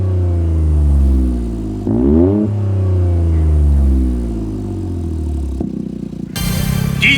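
A Toyota GR Yaris with a titanium exhaust revs loudly and nearby with a deep, throaty exhaust note, rising and falling, then a sharp higher blast near the end.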